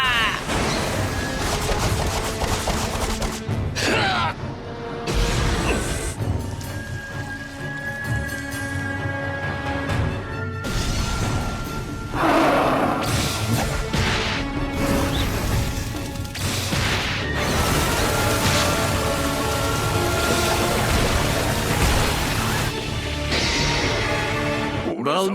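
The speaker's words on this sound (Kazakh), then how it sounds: "Құмды бомба!" Anime sand bomb attack effect: dense, continuous crashing and booming impacts that stay loud throughout, with repeated heavy bursts, dramatic music and voices mixed in.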